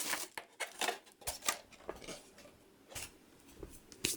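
A cutter slices open the cardboard box around an Overwatch Reaper Death Blossom polystone statue, giving quiet, close scraping strokes and small taps in an irregular rhythm, with no speech.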